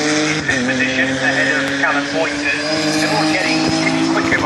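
Ginetta race cars at Oulton Park sweep through Cascades, several engines droning and shifting in overlapping tones with a brief tyre squeal, loud and continuous, while a commentator talks over them.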